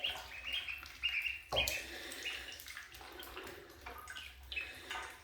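Ducklings peep and chirp over gently moving shallow water in a bathtub, with faint splashes and a louder splash burst partway through.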